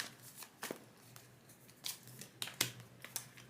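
Tarot cards slide and snap off a deck in a few quick, crisp bursts of papery rustle, close and fairly quiet, with no voices over them.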